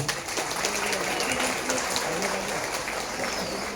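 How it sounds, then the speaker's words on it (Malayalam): Audience clapping after a Margamkali dance performance, a steady wash of many hands over background murmur, with faint voices underneath throughout. "എല്ലാവരും നന്നായിട്ടൊന്ന് കൈയടിച്ച്."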